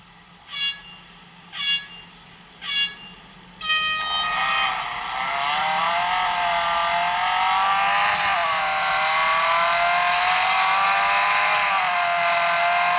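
A racing car engine at Suzuka in a racing game on an Ulefone Gemini phone: three short start beeps, then a loud, steady engine whine that rises and wavers as the car accelerates.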